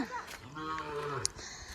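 A cow moos once, a long, low, drawn-out call close by, with faint outdoor noise around it.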